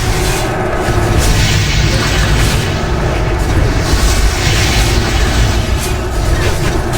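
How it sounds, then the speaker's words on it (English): Arcane Explosion spells from World of Warcraft Vanilla, cast repeatedly in a multibox group inside Scarlet Monastery Cathedral, produce a dense, loud, continuous roar of overlapping magical blasts and rumbling booms. "Arcane Explosion just absolutely destroys us."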